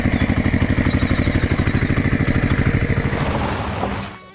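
A red cartoon tractor's engine chugs in a fast, even pulse of loud, close putters that runs without a break and then fades away near the end.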